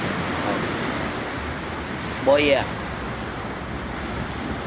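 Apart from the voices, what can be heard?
ocean waves in Ocho Rios, Jamaica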